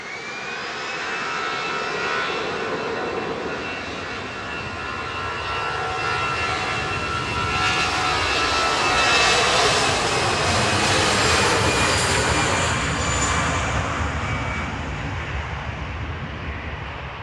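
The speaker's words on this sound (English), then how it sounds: "Arriving now, Qatar Flight 23 from Doha, A7BHK, 787-9." A Qatar Airways Boeing 787-9 arriving at Manchester Airport from Doha, a loud continuous jet roar with a high engine whine that swells as it passes close by, then eases slightly, with no speech.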